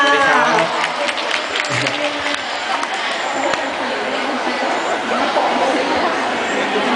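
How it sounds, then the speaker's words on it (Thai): Audience applause at a public event in Rayong, a busy mix of clapping and crowd chatter heard over and under ongoing talk, fairly close and steady throughout. "ขอเสียงปรบมืออีกครั้งค่ะก ับคุณสำรวยสว่างสุขค่ะ"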